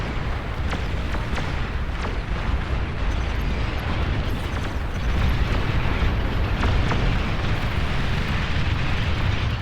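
Bombers in a strategy video game blow up an enemy fusion structure, producing dense, continuous rumbling explosions with scattered sharper blasts, loud and unbroken throughout with no talking.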